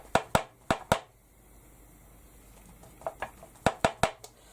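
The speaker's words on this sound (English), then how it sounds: "rest on there so it's not banging the glass" Several sharp knocks of a paintbrush against glass, in clusters of two to four taps separated by quiet room noise.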